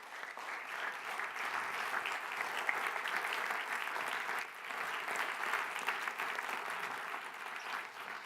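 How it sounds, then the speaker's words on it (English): A large audience at a 2014 X-Talks event applauds Miles Bodzin as he takes the stage, a dense, steady clapping that holds for about eight seconds with a slight dip midway. "Please give a big, warm round of applause for Miles Bodzin."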